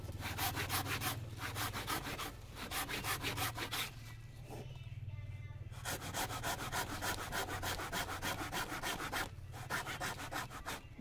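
A hand saw cuts through a fig tree branch with fast rhythmic back-and-forth strokes, pausing briefly midway before resuming, close and steady.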